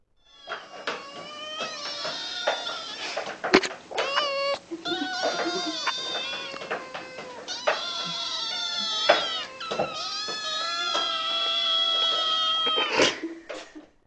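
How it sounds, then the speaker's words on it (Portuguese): A cat meows for food repeatedly and insistently, close and loud, with drawn-out, wavering cries following one another almost without pause. "reparem só como que é um miado solicitando comida."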